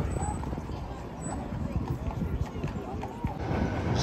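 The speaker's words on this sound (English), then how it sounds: "Horses." Horses' hooves clip-clop along the street near North Pier in Blackpool, a steady patter of faint, irregular hoof strikes under a constant outdoor crowd murmur and traffic rumble.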